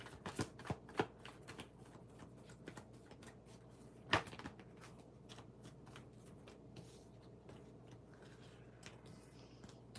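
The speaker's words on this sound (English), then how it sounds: "I need to shuffle the cards a little bit more" Tarot cards are shuffled by hand close up, soft riffling and light clicking taps scattered through quiet room tone, with one sharper snap partway through and no talking.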